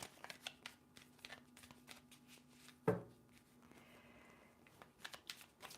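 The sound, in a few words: shuffling tarot cards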